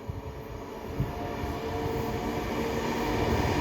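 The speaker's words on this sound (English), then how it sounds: "passing through now is a pendolino doing a service from Manchester Piccadilly to London Euston" Pendolino train from Manchester Piccadilly to London Euston passing slowly through Rugby station; a steady rumbling roar that builds gradually over a few seconds, with no talk.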